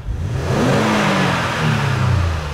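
A 2016 Toyota Sienna's 3.5-litre V6 engine revs up from idle, rising to a strong roar, easing slightly, then climbing again, close and loud.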